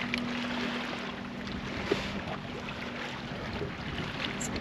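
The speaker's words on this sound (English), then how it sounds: "There is enough wind that we're just getting pushed along." Wind blows across open water as a boat drifts, a steady, broad rushing hiss with soft buffeting on the microphone. Faint low water movement sits underneath, and there is no speech.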